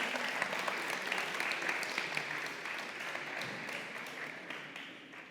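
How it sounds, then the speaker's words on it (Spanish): Women in a church congregation applaud as people take their seats, a sustained even wash of many hands clapping, moderately faint and fading slightly toward the end, with no voices over it. "Ladies, please give them an applause as they sit down."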